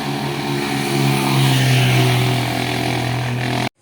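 A motorcycle engine drones steadily nearby in Manila, its hum rising in pitch and loudness midway before cutting off abruptly at the end.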